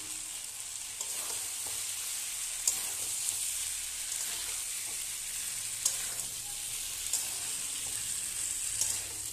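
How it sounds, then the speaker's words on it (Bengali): Fried cauliflower and potato pieces drop into hot oil for a vegetarian curry, raising a steady, fairly faint hiss of sizzling with occasional light clicks of stirring, no voices. "দেখুন তেল ছেড়ে দিয়েছি, এবার দিয়ে দিচ্ছি ভাজা সবজিগুলো।"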